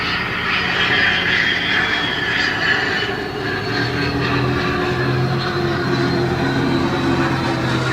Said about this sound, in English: And of course, here comes a plane.